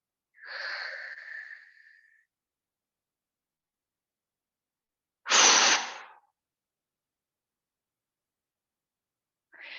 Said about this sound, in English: as we're breathing here